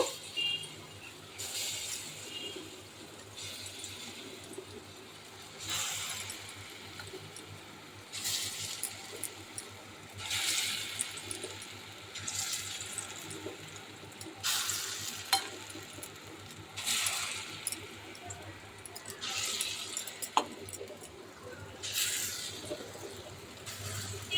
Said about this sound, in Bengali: এবারে এক এক করে বড়াগুলো ছেড়ে দেব।